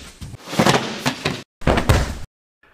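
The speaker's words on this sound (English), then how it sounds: "It's gonna have to be the breakfall." A martial arts breakfall lands with sharp, heavy slaps of body and arms against the ground, two rough impact bursts separated by a brief pause, close and fairly loud.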